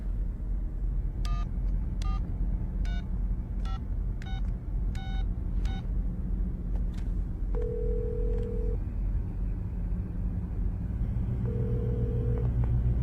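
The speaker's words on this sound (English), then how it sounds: "Dial your number." Touch-tone telephone keypad dialing in a David Lynch film scene: a run of about eight crisp DTMF beeps at a steady pace over a heavy low rumble, then two longer sustained tones, with no talking.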